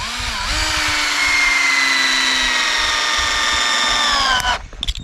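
A drill drives a screw into the bracing of an off-grid cabin wall, a steady close whirring motor whine held for about four seconds before it stops with a brief clatter, with no talk.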